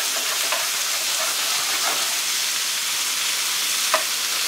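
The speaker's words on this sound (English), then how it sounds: "You want to saute this off at a very high heat real quick, okay? Sear that white meat up." White meat searing over very high heat for fajitas, a steady broad sizzle with a few brief clinks of stirring, no talking.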